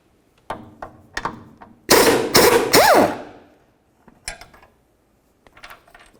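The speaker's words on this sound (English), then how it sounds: "We'll go ahead and hold that nut and remove all of the bolts." A hand ratchet works 18mm crossmember bolts loose on a 2001-2006 Chevrolet Silverado 2500: scattered sharp clicks, then a few rapid ratcheting runs up close, fading back to occasional taps.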